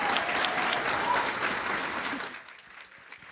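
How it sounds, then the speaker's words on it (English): An audience breaks into loud, dense applause for a young guest, holding strong for about two seconds before quickly thinning out into scattered claps and near quiet. "Please just give him another round of applause to this little guest."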